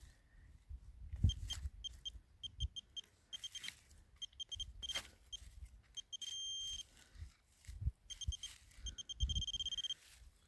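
A metal detector beeps in short, repeated electronic bursts while someone digs, with dull thuds of a shovel between them in a quiet outdoor setting.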